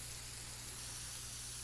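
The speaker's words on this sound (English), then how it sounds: "No, I need the spray paint because it's easy." A spray paint tool hisses steadily in The Sims 4 during house building, a soft continuous airy spray with a low hum beneath and no voices.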